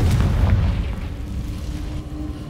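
A Confringo blasting spell detonates as a heavy, rumbling explosion, loudest in the first half second and then settling into a sustained low roar that fades slowly without any voices.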